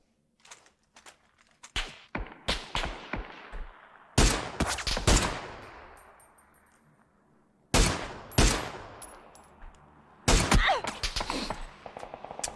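PUBG gunshots ring out as sharp, loud reports with long echoing tails, mixed with scattered quieter clicks and thuds, the shots coming in uneven clusters.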